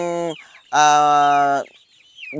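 Shamo and giant chickens feeding in a yard give loud, close clucks and drawn-out squawking calls, with a few fainter chirps between them.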